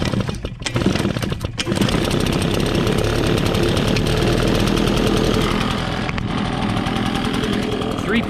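A new gas-powered leaf blower's small two-stroke engine fires up after choking and pull-starting, then holds a loud, steady, buzzy roar close by for several seconds.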